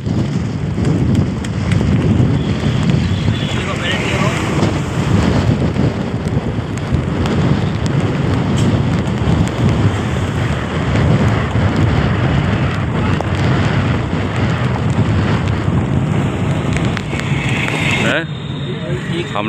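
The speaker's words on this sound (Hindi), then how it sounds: "पानी बरसने लगा, ऑटो में बैठे हुए हैं।" Heavy rain drums steadily on an auto rickshaw during a ride in Bareilly, a loud continuous wash close around the cabin from start to finish, with voices talking over it.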